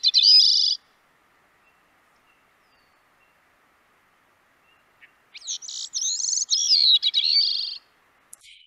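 A recording of a rare bird's song plays as two bursts of high, clear whistled phrases separated by several seconds of silence, the second longer and more varied.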